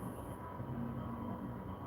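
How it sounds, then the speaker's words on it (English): A train pushing through nearby, a low continuous rumble and grinding drone as the cars drag past, steady and fairly faint. "Yeah, that's a train pushing through."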